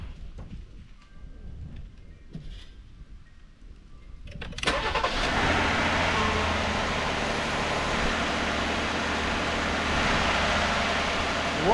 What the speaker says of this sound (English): Let me crank it and let it run a minute.